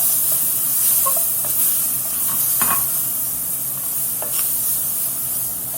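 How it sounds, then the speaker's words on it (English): Onions go into a dark, not blonde, roux for crawfish étouffée and sizzle steadily while a spoon scrapes and stirs the pot in a few distinct strokes, with no voices over the hiss. "We're going to get them onions in there."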